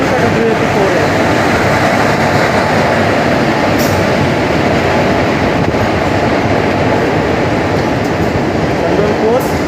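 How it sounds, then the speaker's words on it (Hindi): The 11040 Maharashtra Express arrives at Dhamangaon station behind a Bhusawal-based WAP4 electric locomotive, a steady loud rumble of rolling coaches with faint clickety-clack throughout, close by and continuous. "और सामने देख सकते हैं आप arrival 11040 Maharashtra express Dhamangaon station पे WAP4 भुसावल का WAP4 है।"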